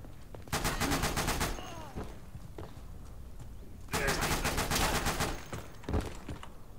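Gunfire in a video game as an enemy shoots through a wall: two loud bursts of rapid automatic fire separated by a short lull, with scattered single shots between.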